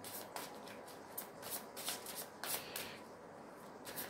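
Tarot cards are slid back into the deck and shuffled by hand, giving a close run of crisp riffling bursts and papery flicks in an irregular rhythm, with no voices.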